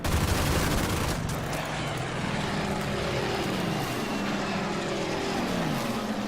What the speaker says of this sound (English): Some strafe runs.